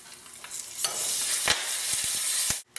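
Hing and curry leaves hitting hot oil for a chickpea chutney seasoning give a steady bright sizzle with a few sharp crackles and stirring clicks, close and continuous before cutting off abruptly.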